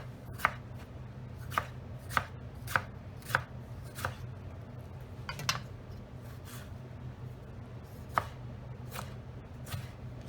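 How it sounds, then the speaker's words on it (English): Fresh tomatoes chopped on a board with a knife: a steady series of crisp knife strikes at an even pace, about a dozen across the stretch, close and clear over a low background hum. "we want to chop our tomatoes"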